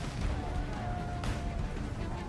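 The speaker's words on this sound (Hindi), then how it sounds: "पटाखा फटते ही देखिए कैसे आतिशबाजी फूट रही है, चिंगारियां निकल रही हैं।" Firecrackers thrown onto a street burst among a crowd of political supporters, giving loud, dense crackling and booming noise with one sharper bang midway, all mixed with roaring crowd commotion.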